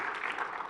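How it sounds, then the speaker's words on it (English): A short burst of steady clapping from a crowd, dense and even with no voices on top. "I'll give you a round of applause"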